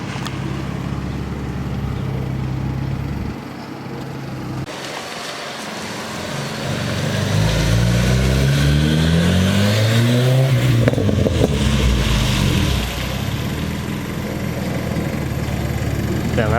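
An Acura RSX engine idles nearby, then revs up and down with rising and falling pitch sweeps before settling back, loud and close under a rumbling exhaust.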